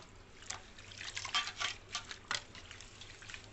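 Coriander leaves are washed by hand in a bowl of ice water, giving soft splashes and sloshing bursts of water over a quiet background, irregular and close.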